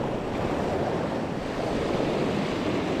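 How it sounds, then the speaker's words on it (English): Wind blowing hard onto a rocky sea coast during a storm swell, with a steady roar of surf and gusting wind noise on the microphone, continuous and loud with no voices. "unfortunately the wind's blowing this way"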